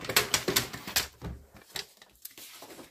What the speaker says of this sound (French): je m'arme de mon massicot